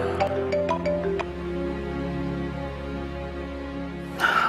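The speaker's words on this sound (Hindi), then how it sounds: "किसका फोन आ गया?" A phone rings with a melodic ringtone of short, repeated tonal notes over a faint background hum, fairly quiet, with a brief louder sound at the end.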